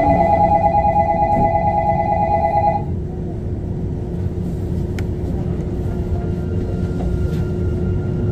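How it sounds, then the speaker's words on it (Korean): Sillim Line light rail train pulling away from a station, a bright door-closing chime tone sounding for the first three seconds over steady low rumble, then continuous rolling and motor drone as it accelerates. "열차 곧 출발합니다"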